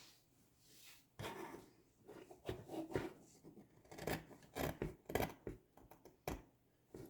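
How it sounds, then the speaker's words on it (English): Scissors cutting dress fabric on a table, quiet close snips and rustling slides in an irregular rhythm, with intermittent crisp blade closures and no speech. "So now we'll cut it out."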